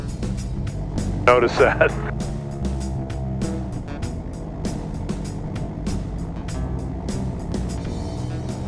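Icon A5 light aircraft engine idling steadily at 2,000 RPM, a continuous buzzing drone with a brief louder surge early on, heard under cockpit conversation.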